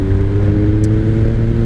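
A 2003 Kawasaki ZR7S motorcycle engine runs steadily up close with a strong, even hum and no speech.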